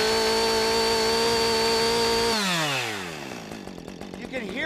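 Chainsaw engine held at a steady high-pitched full-speed scream with its carburetor high-speed screw adjusted, then the revs drop sharply as the throttle releases, ending in a lower sputtering idle, close by.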